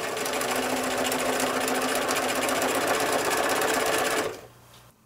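A sewing machine runs continuously, stitching binding down through quilt layers in a dense, even mechanical whir, close by, before cutting off abruptly near the end.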